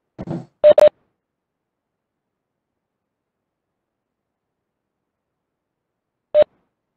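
Phone tones during a city council session call: a few short electronic beeps in quick succession, then a long silence and one more beep, with no talking.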